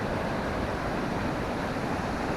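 Uma Anyar waterfall in Gianyar, Bali, roars as a steady, dense wash of falling water, loud and unbroken throughout with no voices.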